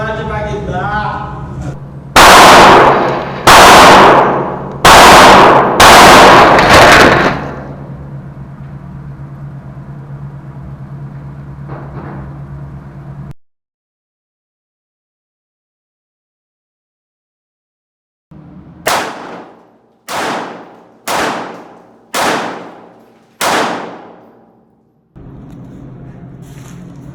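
Gunshots strike the armored glass of a used armored car during a level IIIA ballistic test, arriving as sharp, loud cracks with ringing decay. A cluster of four comes early, then a silence, then a second run of five evenly spaced shots, with muffled voices between them.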